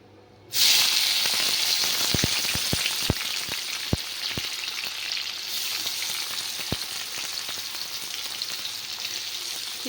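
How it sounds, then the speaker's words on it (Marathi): Onions dropped into hot oil in a pan for egg bhurji burst into a loud, sudden sizzle that settles into a steady hiss, with a handful of sharp pops and spatters standing out near the start. "तेल गरम झालेलं आहे आपण ह्याच्यामध्ये कांदा टाकूया"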